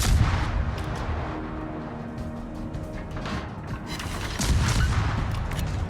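Warship guns firing in a naval video game, with the French destroyer Le Fantasque in action; dense rumbling booms and blasts roll on steadily for several seconds, growing heavier near the end.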